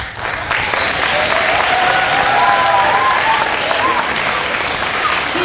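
An audience at a school build event claps together, a dense and loud burst of applause that keeps going at an even level throughout.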